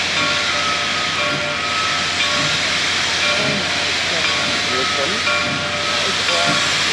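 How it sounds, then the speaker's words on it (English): Steam locomotive 425 departing Port Clinton, Pennsylvania, with a steady loud hiss of venting steam that runs throughout and holds a faint tonal whistle-like line beneath it. "Smoke coming off the top, steam off the top."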